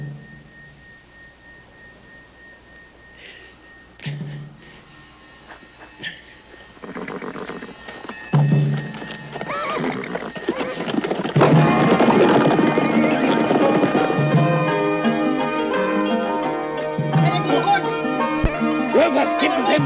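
Horses in a Western film setting, hooves clattering and a whinny rising from a quiet start, building to a loud, dense gallop with music-like layers over the last half.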